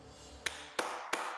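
Three sharp, separate claps spaced evenly apart, close and fairly quiet, with a soft hum in between.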